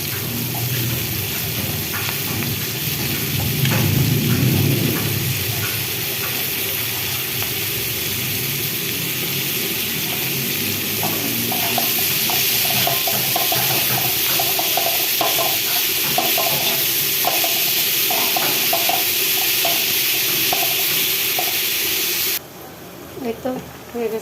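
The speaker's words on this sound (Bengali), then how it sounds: "করলা ভাজি করলাম, পেঁয়াজ কাঁচামরিচ করলাম" Bitter gourd frying with onion and green chili in a pan, a continuous loud sizzle and hiss with soft stirring scrapes, a voice talking over it for part of the time.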